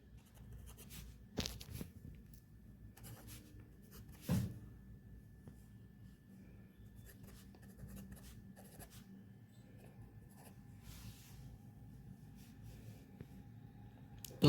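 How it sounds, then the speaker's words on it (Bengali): Pen scratching out prediction formulas on paper, steady faint scribbling close by, broken by a couple of louder knocks against the page and a quiet background hum. "তো সব কিছু আপনাদেরকে এখানে লিখে দেখিয়ে দিচ্ছি।"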